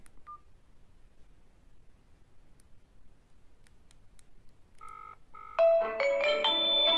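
A tiny BM10 mini phone places a local test call: a few scattered beeps, then a quick run of dialing tones followed by a loud, bright electronic ringtone that plays to the end.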